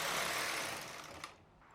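A 30-year-old knitting machine works a sweater, its carriage giving a steady, close mechanical rasping whir that eases off toward the end, with one short click near the finish.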